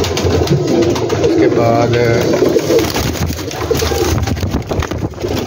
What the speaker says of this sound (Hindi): दोबारा से मैं ये कबूतर आपको दिखा रहा हूँ